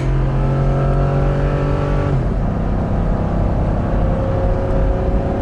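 A 2020 Ford F-350 Super Duty 7.3 pickup engine droning steadily from inside the cab while accelerating uphill, pitch rising then dropping with a gear change, loud and continuous.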